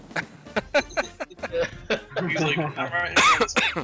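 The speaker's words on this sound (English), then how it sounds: "I don't know why I keep coughing" Several short, harsh coughs scattered among bits of talking and a quiet snicker, close to the microphone.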